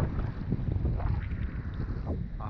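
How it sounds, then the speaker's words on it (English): Wind sweeps across a rocky shoreline near the water, a steady, fairly loud low rush and rumble with slight gusty swells and no speech. "I hope as the sun starts to get up that this wind wants to drop a bit"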